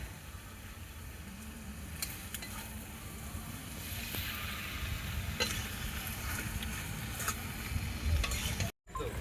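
Kadaknath chicken meat stir-fried in a pan at a riverside evening picnic gives a steady close sizzle, with stirring scrapes and brief clatter throughout.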